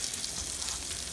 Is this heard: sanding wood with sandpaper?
no